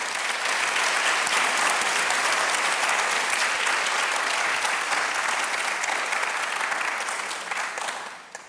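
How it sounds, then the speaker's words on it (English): A large audience gives a big round of applause to welcome a performance at an event on accessibility for diverse communities, loud and sustained, then fading out at the end. "Give a big round of applause to welcome the performance"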